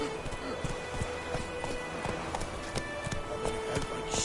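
Roach, a horse in the video game The Witcher, clip-clops along at a steady hoofbeat rhythm with game ambience behind it.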